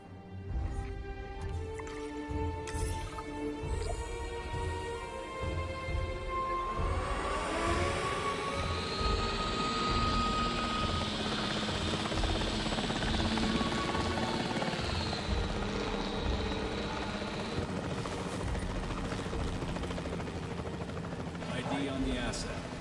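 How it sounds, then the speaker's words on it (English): A capture team helicopter in the video game Jurassic World Evolution whirs steadily for the whole stretch. Its rotor noise swells midway under game music and radio-style voices. "The priority needs to be tranquilizing it with the capture team chopper."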